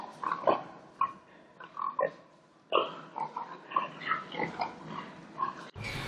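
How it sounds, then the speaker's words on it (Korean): Grunts and snorts from genome-edited pigs in their farm pen, a series of irregular close oinks and squeals with short pauses between them, no talking. "Where we can see around us some of our genome-edited pigs"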